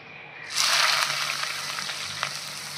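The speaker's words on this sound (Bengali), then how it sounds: "এবার কুচিয়ে রাখা পেঁয়াজটা তেলের উপরে দিয়ে দেবো" Chopped onion hits hot oil and bursts into a sudden loud hiss that settles into a steady crackling sizzle, close and continuous with no talking.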